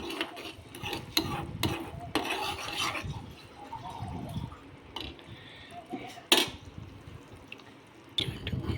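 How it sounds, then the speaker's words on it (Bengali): Caramel being stirred in a pan for mango kulfi, heard as quiet, close scraping and rubbing strokes in short bursts separated by brief pauses, faint overall. "আর ক্যারামেলটাকে মানে নাড়াতে থাকবেন"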